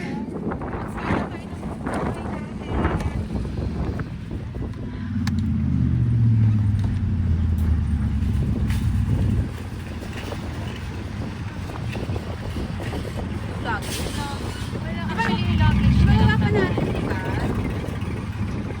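A car's exhaust gives a deep rumble that swells loudly twice, laid over steady wind buffeting and nearby voices talking.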